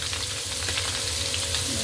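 Fish sizzles loudly and steadily in hot oil in a pan, a dense continuous crackle and spatter heard close up without any voices.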